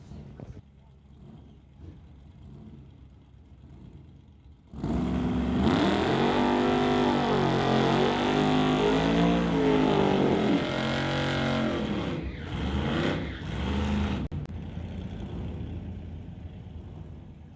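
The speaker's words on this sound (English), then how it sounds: "Burnouts complete for both racers as they move their way forward to the staging beams." A Chevy pickup and a Model A do drag racing burnouts, starting with a lower engine rumble and then a sustained, loud, roaring rev with wavering pitch that continues for several seconds before settling.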